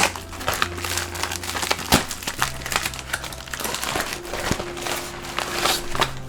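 Beauty box packaging torn open and crinkled during an unboxing, close crisp rustling and crackling of plastic and paper in irregular bursts, with occasional sharp snaps, no talking.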